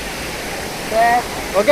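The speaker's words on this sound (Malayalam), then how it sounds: "അമരാട് വെള്ളച്ചാട്ടം പൊള്ളി." Amarad waterfall gives a steady, loud rushing roar of falling water in a short burst, with a voice speaking briefly over it.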